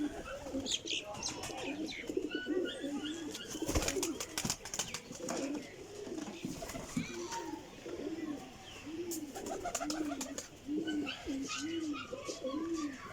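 Sialkoti pigeons coo in repeated rolling phrases, close and steady, with occasional wing flutters and rustling. A few chirps sound in the background.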